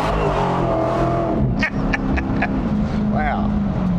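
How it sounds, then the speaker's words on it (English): A 2023 Dodge Demon 170 revs hard while its tires burn rubber, a loud roaring engine with a few sharp squealing chirps, and people talk over it. "you could burn these tires off in 10 seconds with this thing"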